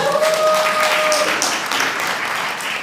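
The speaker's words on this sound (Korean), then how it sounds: "박수 한번 여기서 쳐야 되는 거 아닙니까?" An audience at a Hilly business presentation breaks into loud, sustained clapping that holds steady throughout, with a faint tone lingering early on.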